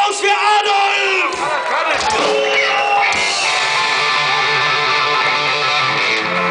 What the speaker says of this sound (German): Ein Applaus für Adolf!